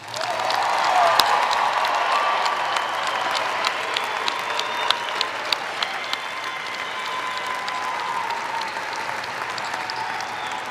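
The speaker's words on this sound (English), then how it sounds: "Let's give them one more round of applause." A large University of North Dakota commencement audience applauds the graduating class, a loud sustained wash of clapping from a big hall that holds steady for the whole stretch.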